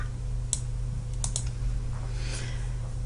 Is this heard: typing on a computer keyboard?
yes